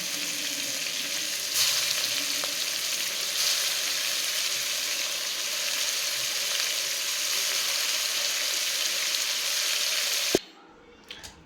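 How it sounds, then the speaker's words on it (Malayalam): Fish sizzles in hot oil with a steady, loud, even hiss that fills nearly the whole stretch, then cuts off abruptly near the end. A small clink follows in the quiet. "ചൂട് മീനുകളെ അതുകൂടെ നമുക്ക് വറുത്തെടുക്കാം"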